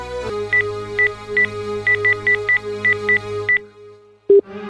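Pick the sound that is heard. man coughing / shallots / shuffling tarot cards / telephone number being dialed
telephone number being dialed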